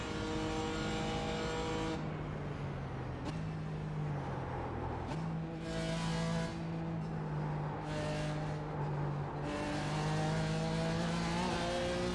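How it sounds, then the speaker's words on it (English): A race car engine in a sim racing game, driven on a Cammus C5 wheel, drones steadily around the track as the pitch climbs and drops through gear changes, loud and continuous with no talk. "really get this car around the track, and we're getting faster and faster each lap."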